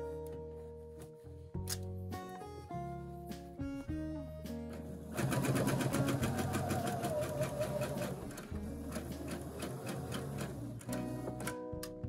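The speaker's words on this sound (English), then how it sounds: "I'm just gonna back stitch to secure it" A sewing machine back stitches a quilt binding seam with Northcott fabrics, starting with short bursts of stitching, then running faster in a steady, close whirring stretch before slowing again; no talking.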